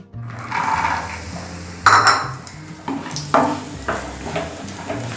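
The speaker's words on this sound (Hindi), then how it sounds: "सबसे पहले हम इसके अंदर मखाने को फ्राई करते हैं।" Makhana (fox nuts) frying in hot ghee in a pan over a medium flame, with clinking pan and utensil knocks and scraping over a steady background sizzle, close and moderately loud, no talking.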